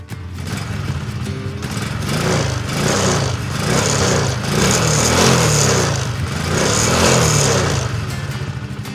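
A Router WS50 moped's small two-stroke engine idles and revs close by, its buzzing note rising and falling in waves with no talking.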